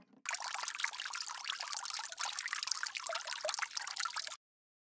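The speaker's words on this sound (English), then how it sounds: "I'm watering the plants to help them grow." Water pours steadily from a watering can onto garden plants in a children's cartoon, a continuous bright splashing trickle that starts abruptly and runs for about four seconds before cutting off.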